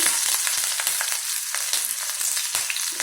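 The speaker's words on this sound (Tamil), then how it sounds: "பொடியாக நறுக்கணும் இஞ்சி, கீறி வச்ச பச்சை மிளகாய் போட்டு இதை வதக்கணும்" Ginger, slit green chillies and garlic sautéing in hot oil for sambar bonda make a steady, close, bright sizzle with light crackles and occasional stirring clicks throughout.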